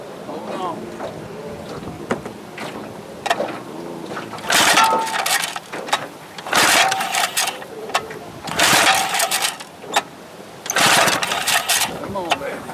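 Pull-starting attempts on a 1972 Johnson 25 hp outboard motor with no spark on cylinder one: repeated loud bursts of cranking and sputter in uneven pulls, with voices talking between them.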